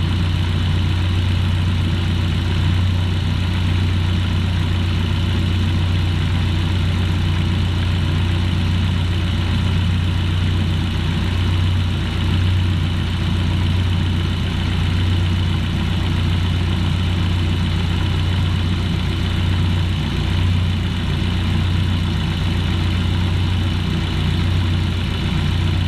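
The engine of a BT GLI car idles rough after a second startup, misfiring on one cylinder, with a steady low rumble and faint irregular stumbles throughout, close and loud, with no voices.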